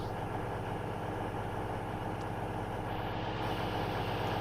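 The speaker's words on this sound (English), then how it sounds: "And then we've got one ticking over, just the one engine." A single diesel engine of a Class 222 train idles in Train Simulator, a steady low rumbling drone that holds even and continuous throughout with no other sounds.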